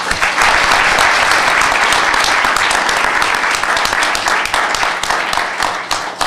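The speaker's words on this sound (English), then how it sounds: "Let's hear a round of applause." Sustained audience applause after a panel at a leadership forum, dense, loud, steady clapping from a crowd that runs the whole length and thins slightly near the end.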